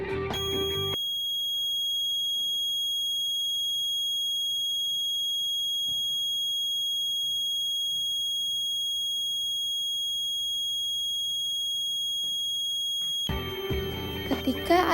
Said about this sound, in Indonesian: Arus listrik lalu mengalir ke buzzer sehingga buzzer berbunyi sebagai tanda adanya banjir.